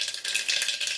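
Mustard seeds dropped into hot oil, giving a quick, close, crackly rattle and spatter that lasts only a moment, with no voice over it.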